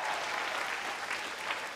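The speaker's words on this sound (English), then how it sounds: "I saw that the teachers really appreciated that round of applause" Applause from an audience of teachers at an educator award ceremony, a steady dense wash of clapping that fills the whole short stretch without a break.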